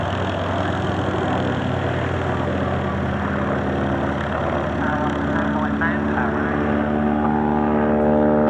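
A Fairey Swordfish biplane flying past at an airshow, its piston engine and propeller droning steadily and loudly, the tone rising slightly in pitch toward the end as it passes, with radio talk heard over it.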